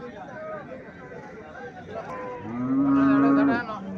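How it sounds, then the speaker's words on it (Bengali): A cow at the Mirshanni cattle market in Cumilla lets out one loud, drawn-out moo near the end, over a steady background of market chatter and crowd noise. "এখানে একটা গাভী দেখা যাচ্ছে"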